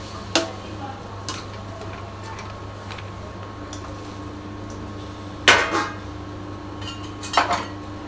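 A spatula stirs okra and onion in a pan as they cook, making a few sparse, sharp metallic clinks over a quiet kitchen background, with two louder scrapes standing out.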